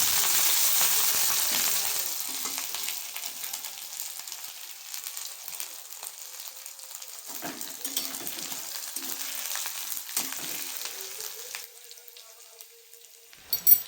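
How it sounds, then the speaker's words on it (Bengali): Grated ginger and green chili frying in a wok, a steady close sizzle that is loudest at the start and eases off, with occasional stirring scrapes and no talking. "কাঁচা লঙ্কাটা দিয়ে একটু ভালো করে কষিয়ে নেব।"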